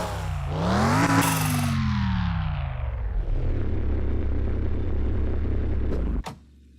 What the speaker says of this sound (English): It's a running car.